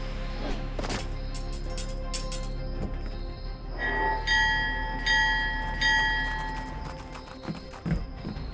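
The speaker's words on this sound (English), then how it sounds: "the large bell could be heard a mile away" A large bell rings out with a long, sustained metallic tone, heard at moderate distance over a steady low background rumble and some clattering.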